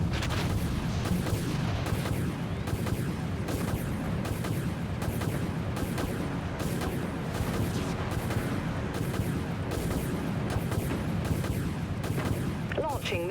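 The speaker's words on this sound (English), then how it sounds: "Reloading. Torpedo lock. Launching torpedoes." Dense, continuous barrage of explosive launches and booms from torpedoes firing in the video game Dread Nothing, loud and steady throughout with no pauses.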